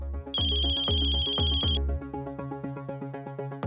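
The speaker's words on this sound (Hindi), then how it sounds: "शिवम का फोन है। उठा लो" A mobile phone rings with a repeating electronic melody, bright high chiming notes over pulsing low beats, clear and close with no voices.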